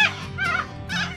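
A dog near a lagoon outside Normanton, Queensland, gives three short, fairly close barks in quick succession.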